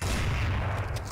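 A loud in-game gunshot from an AWP sniper rifle, one sustained booming report that fills the short moment, with no talking over it.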